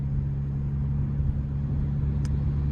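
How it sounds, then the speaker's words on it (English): A turbocharged Kia car engine idles with a steady low rumble up close, heard alone with no talking. "I want y'all to hear the car too"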